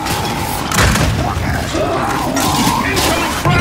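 A frag grenade goes off in the video game Gears of War 5, heavy booms and thuds amid combat noise and shouting voices, with louder bursts near the start and end.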